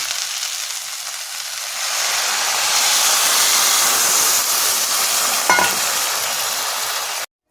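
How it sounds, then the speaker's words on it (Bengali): Water poured into a pan of sizzling spiced spinach rice mixture for palong rice, a steady broadband hiss and sizzle that swells after the first couple of seconds and holds loud, with a brief clatter near the end. "এবার আমি এর মধ্যে জল দিয়ে দেবো"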